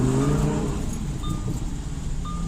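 A white 2020 Lamborghini Evo coupe idles with a low, throaty hum that eases off after a moment. Two short high electronic chimes sound inside the cabin.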